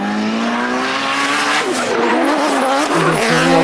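A race car in drift qualifying at Ryazan revs hard into a drift, engine pitch climbing then wavering as the tires squeal and skid loudly and continuously, close and intense throughout.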